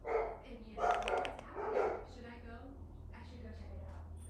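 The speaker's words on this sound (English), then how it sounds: "sorry about the barking dogs" Dogs bark in a few sharp bursts near the start of the clip, then settle into whimpering and softer yips. The sound is moderately loud against a steady indoor hum, and no one speaks.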